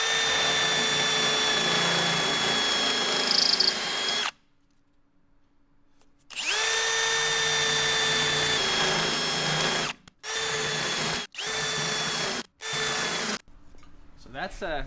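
A power drill bores out spot welds in a car floor pan during an AWD floor pan swap on an Evo wagon, whining loudly in long runs that stop, restart and end in several short bursts, with no talking over it.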